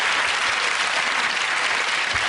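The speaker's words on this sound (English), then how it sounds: "Ironically, he gets a round of applause for that." A studio audience at a British TV comedy panel show breaks into steady, dense applause that fills the whole moment, close and loud with no voices over it.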